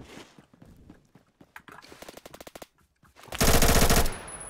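Gunfire in a shooter game starts with scattered single shots and footsteps, builds into a fast automatic rattle, then ends in a loud, sustained burst close up.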